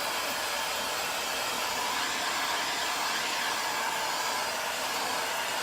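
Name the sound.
heat gun drying crackle finish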